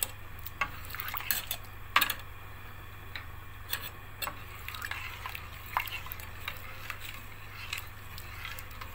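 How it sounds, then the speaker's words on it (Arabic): A spoon stirs a coconut Ashura dessert in a pot, making repeated light scrapes and metallic clinks, quiet and close, with one sharper knock. "افضل اقلب فيها كده، احركها كتير"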